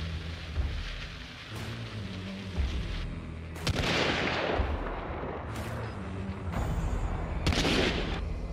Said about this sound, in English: I'm gonna show it off with a chaos bomb to indicate some shots